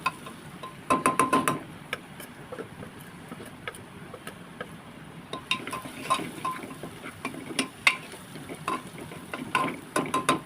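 Chopped bottle gourd and chana dal sauté in oil over low heat, with bursts of spatula scraping and clinking against the pan over a faint, continuous sizzle.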